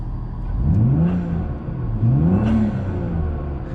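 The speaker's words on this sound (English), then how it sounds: "You hear that noise? The turbo blow off noise?" Volvo S60 T6 with Snabb 3-inch turbo intake piping revving twice in quick succession while parked, each rise followed by a falling whoosh consistent with a turbo blow-off; engine close and fairly loud, no talk.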